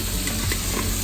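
Ginger-garlic paste sautéing in a pan for Kozhikodan dum biryani, with a steady close sizzle and faint scraping stirs running through the whole moment, no voices.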